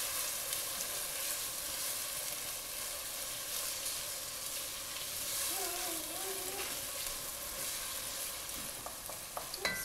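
Soft sizzling of tomato paste in a pan with gentle stirring scrapes, quiet and steady, no voices.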